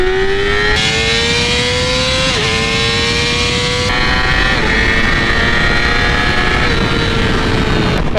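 A 2017 Yamaha R6 600cc sport bike fitted with a factory Yamaha quickshifter accelerates hard and loud, its engine note climbing steadily with quick dips at each clutchless upshift, close up and continuous over wind and road noise.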